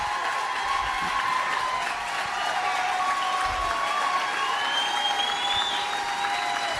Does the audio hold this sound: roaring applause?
yes